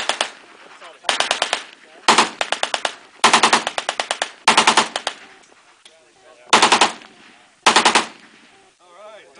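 An AK47 rifle fires in repeated short bursts, each a quick string of loud, close shots, separated by brief pauses with faint voices in between.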